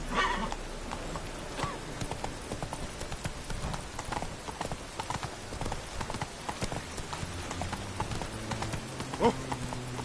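In The Witcher 3, a horse's hooves clip-clop at a steady, close, rhythmic gait throughout, with faint game ambience beneath.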